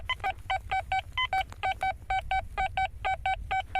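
A Quest X10 Pro metal detector sounds a run of short, sharp electronic beeps in quick rhythmic succession, loud and close, while scanning ground where a piece of aluminium wire lay buried.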